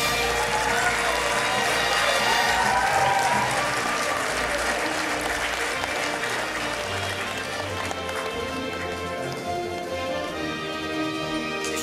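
An audience at a festival gala concert breaks into sustained, dense applause that fills the hall loudly and evenly for several seconds before easing slightly.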